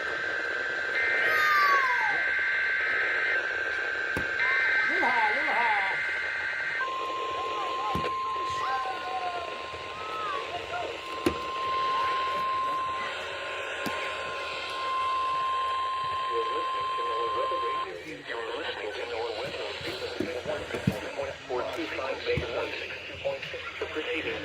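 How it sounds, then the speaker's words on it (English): Alarm test tones from a weather radio station sound as steady electronic pitches: a long high tone, then a lower tone broken into several long beeps, heard over radio static and broadcast voices. "The preceding tone signals were a test of the alarm device of this weather radio station."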